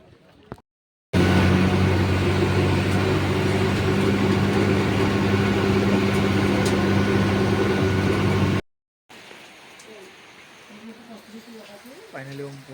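A car ride on the road gives a loud, steady engine and road rumble lasting several seconds, then cuts abruptly to a quieter, softer stretch.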